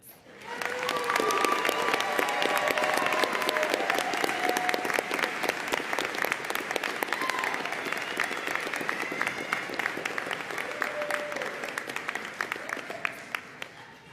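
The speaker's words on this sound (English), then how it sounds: "Everyone, please join me one last time in applauding for our graduates" Sustained applause from a large audience for graduates at a college commencement ceremony indoors, dense continuous clapping that swells early and holds for many seconds before fading, with a few sharp individual claps near the end.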